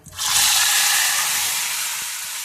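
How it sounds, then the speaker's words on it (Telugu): Ginger garlic masala paste and green chilies hit hot oil with a loud, sudden hiss that settles into a steady, bright sizzle, close and alone. "ఇప్పుడు అల్లం వెల్లుల్లి వేసిన మసాలా పేస్ట్, పచ్చిమిర్చి కూడా వేసేస్తున్నాను."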